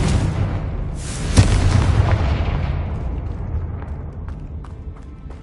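A Confringo blasting spell in Hogwarts Legacy erupts as a single loud, close boom about a second and a half in, over a dense rumbling bed, then fades into a long, slowly thinning rumble.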